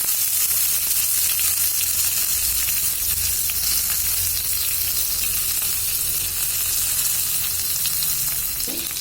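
Loud, steady sizzling of broken curry leaves frying in hot oil with cumin, a continuous crackling hiss with occasional stirring, close up and without talk.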